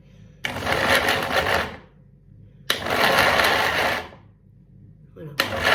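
A cheap Tristar blender runs at power setting 1, its motor whirring in loud bursts of a second or two, separated by short pauses.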